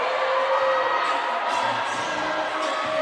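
A stadium crowd at a hockey game lets out a sustained, dense roar of disapproval, a steady wall of voices from many people with no clear break.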